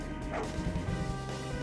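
A dog barks in the Osteoblasts video game, a few low woofs set against steady game music and background noise.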